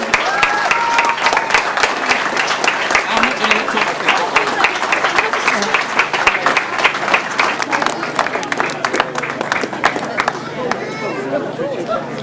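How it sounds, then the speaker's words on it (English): A crowd at the 2008 British Masters grasstrack meeting gives a big round of applause for the top three sidecar crews, crisp clapping with busy crowd chatter that holds strong for about ten seconds before thinning out. "let's give a very big round of applause for the 1, 2, 3 in the Sidecars"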